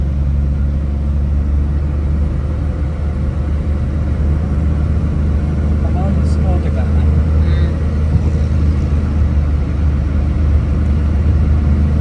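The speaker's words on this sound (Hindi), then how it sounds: "और गाड़ी की ट्रायल ले रहे हैं बस इस वक्त हम" Inside a Suzuki Mehran with a 660cc engine converted to automatic, cruising at about 50 on an airport road, a constant low engine and road rumble drones on, smooth and steady with no voices over it.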